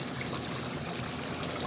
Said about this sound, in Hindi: इस स्टेप में हम इसके अंदर अब कॉर्नफ्लोर ऐड करने लगे हैं आहिस्ता आहिस्ता।